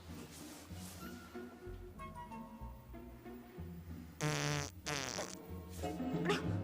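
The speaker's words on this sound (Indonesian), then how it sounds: "Aduh, Mama kentut ya?" A fart noise in an Indonesian TV drama scene, heard as a couple of short, loud, buzzy blasts over the background music.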